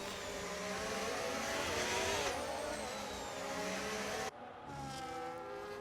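Formula 1 race cars roar at the Brazilian Grand Prix in a racing video game, a loud continuous high-pitched engine whine with rising and falling pitch that briefly drops away before resuming at a distance.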